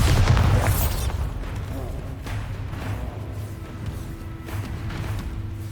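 Spell blasts from the Bombarda and Confringo curses in Hogwarts Legacy burst out as a heavy opening boom, followed by a rumbling, crackling tail with a couple of smaller impacts.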